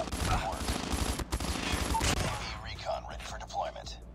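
Rapid burst fire from an M16 rifle in Call of Duty Mobile: dense, loud volleys of shots in the first half, then thinner scattered shots and impacts, with game sounds around them.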